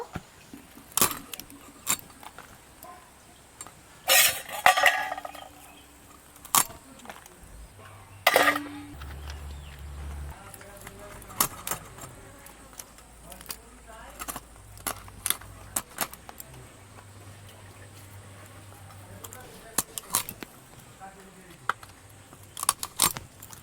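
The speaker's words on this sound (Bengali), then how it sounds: "কাঁকড়াগুলোর ঠ্যাং কেটে নিয়েছি, এবার কেটে নেব।" King crab for malaikari being cut apart by hand, with scattered sharp cracks, snips and clicks of shell and blade spread unevenly over a quiet kitchen, fairly close and without talking.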